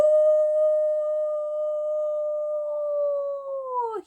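A storyteller imitates a whale's song with a single long, loud, sustained voiced tone held steady for about four seconds before sliding down and breaking off.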